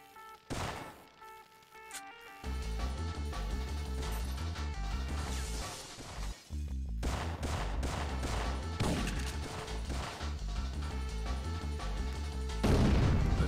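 Dense gunfire from the video game Syphon Filter 2, loud and continuous, with rapid shots, crashes and booms stacked over one another and a heavier burst near the end.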